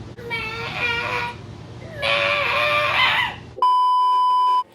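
A person gives two high, nasal honking squawks imitating a flamingo call, followed by a short electronic beep.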